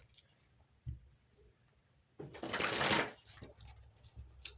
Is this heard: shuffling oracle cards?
yes